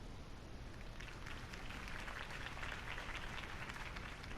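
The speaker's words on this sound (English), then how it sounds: "could have heard that applause" A crowd applauds after a campaign speech in Batman: The Telltale Series, a soft, steady wash of clapping that swells slightly toward the end, faint and distant throughout.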